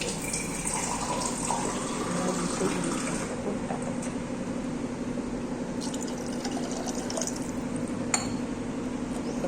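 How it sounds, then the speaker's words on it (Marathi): Water poured into a pot of vegetable curry before pressure cooking, a steady, fairly quiet gushing flow running throughout with a faint underlying hum and a few small clinks. "मला जेवढी भाजी बनवायची असेल तेवढं पाणी टाकायचं."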